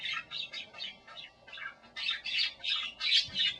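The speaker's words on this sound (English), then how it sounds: "he hears the chirps of angry birds" An agitated northern parakeet gives a run of sharp, repeated chirps and squawks in quick bursts, fairly close and clear, with a brief gap midway before the calls resume more loudly.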